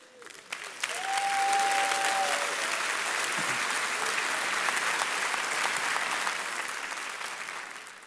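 Sustained applause from a large graduation audience at The Apprentice School's Class of 2017 ceremony, starting after a brief pause and holding steady and full for several seconds, then tapering slightly; a faint tone sounds early on.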